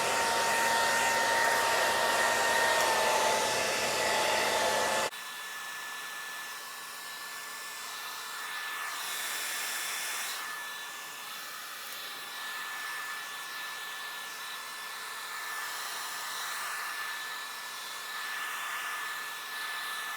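A hair dryer blows steadily on a wig cap to shrink it, a loud continuous whooshing hum that drops to a lower setting after a few seconds and keeps running, with no speech.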